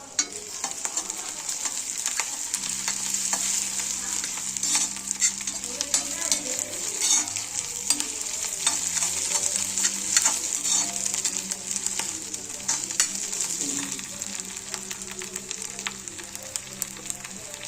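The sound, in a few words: ground chili, coriander, ginger-garlic, curry leaf, mint paste frying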